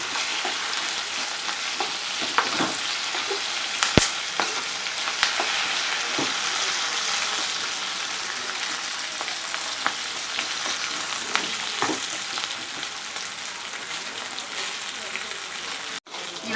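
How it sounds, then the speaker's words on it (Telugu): Fresh coconut pieces, coriander seeds and cumin fry in oil in a pan for a tomato-coriander-coconut chutney, a continuous close sizzle with occasional stirring clinks and scrapes throughout. "కొబ్బరి ముక్కలు, ధనియాలు, జీలకర్ర ఇవన్నీ వేగిపోయినాయి"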